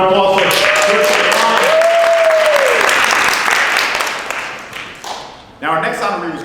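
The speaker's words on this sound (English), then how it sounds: "Another round of applause for" An audience applauds at a city employee appreciation ceremony, with loud, dense clapping that fades over several seconds. A voice speaks over the applause and a whistle rises partway through.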